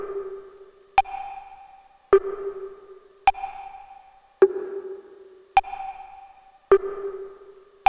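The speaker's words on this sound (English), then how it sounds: "The sound of the woodblocks is quite aggressive" Synthesized woodblock hits on a KORG Wavestate ring out as sharp, aggressive knocks, about once a second in an even rhythm. Each one is loud and close with a short ringing tail, and there is no talk.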